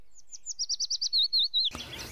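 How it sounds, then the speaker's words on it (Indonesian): A single bird sings on a sunny morning in Brazil, a quick series of bright, clear chirps rising into longer whistled notes, close and loud, then cut off by a burst of other sound. "Gambaran diperlihatkan saat semua burung bernyanyi menandakan pagi yang cerah."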